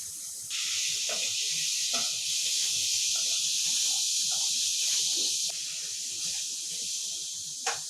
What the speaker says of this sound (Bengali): নুন ও টমেটো, আদা দিয়ে মশলাটাকে এবার কষিয়ে নিই।